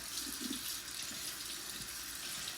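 A water tap runs steadily into a sink while a doll is rinsed, a soft, continuous splashing hiss at low volume with slight fluctuations as the stream hits the surface.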